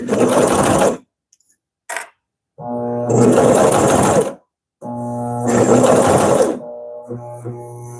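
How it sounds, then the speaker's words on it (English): A Consew CP206RL portable walking foot sewing machine runs a long basting stitch at a 1/4 inch seam allowance, in loud close whirring bursts of about one to two seconds separated by short silences and a few light clicks. "I'm going to baste at a 1/4 inch seam allowance."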